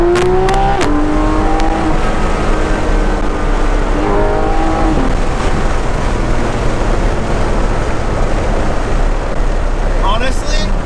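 A Porsche GT3 RS with an MBRP exhaust, valves open, drives with its windows down, the engine revving up through rising pitches then settling into a loud steady roar, with a voice talking over it.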